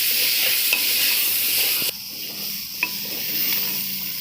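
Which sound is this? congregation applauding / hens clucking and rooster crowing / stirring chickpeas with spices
stirring chickpeas with spices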